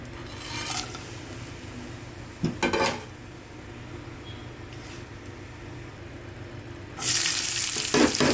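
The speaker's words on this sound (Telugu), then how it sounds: "ఇది బాండ పెట్టానండి, ఇది కొంచెం పెట్టానండి, చికెన్ ఫ్రై చేస్తాను." Chicken fries in a pan for a home-made chicken fry: a continuous sizzle runs under scraping stirs and metal utensil knocks, and it swells into a loud, bright hiss near the end.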